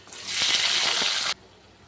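Onion goes into hot oil, already seasoned with cardamom, cinnamon and cloves, for a chicken kosha, bursting into a loud, close hiss that holds for about a second and then cuts off abruptly.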